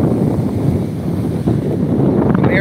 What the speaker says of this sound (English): I know it's super windy